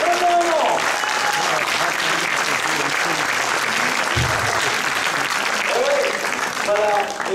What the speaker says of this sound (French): Mais vous pouvez l'applaudir très fort